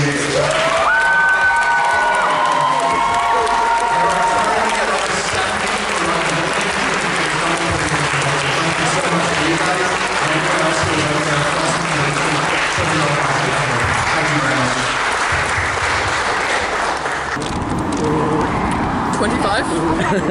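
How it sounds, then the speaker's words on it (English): At the Q-Con Lite 2022 fan convention, a large crowd claps loudly for the volunteers, sustained applause mixed with cheers and shouts, with voices and hubbub beneath it, tapering off near the end. "can I ask for the biggest round of applause you can do for all the volunteers?"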